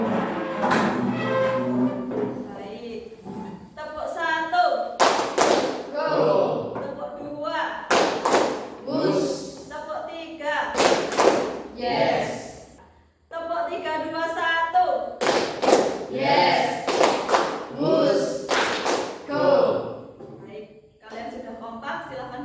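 A group in a school counseling session claps in a counted one-two-three pattern, with sharp bursts of hand claps breaking up a loud spoken chant and instructions.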